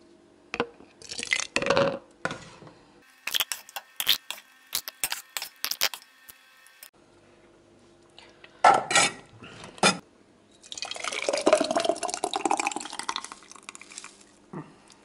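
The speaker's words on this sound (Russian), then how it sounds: "Я полными заполняю баночки и накрываю крышкой и закручиваю." Glass jars being filled with homemade adjika and lids screwed on, a series of close clinks, taps and scrapes of glass and metal separated by quiet gaps, with a longer rattling scrape near the end.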